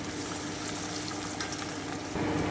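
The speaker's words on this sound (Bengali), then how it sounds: "এবারে আমি বাকি কুচনো পেঁয়াজটা দিয়ে দিচ্ছি আমি একটু ভেজে নিচ্ছি গোল্ডেন ব্রাউন করে" Chopped onions frying in a pan until golden brown make a soft, steady sizzle with light stirring, heard up close.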